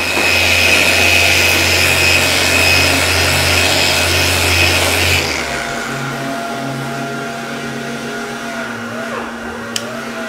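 Sandpaper of 150 grit rubs over a plastic Mazda 6 part in a steady, loud abrasive hiss for about five seconds, then the scraping stops and a quieter room hum remains.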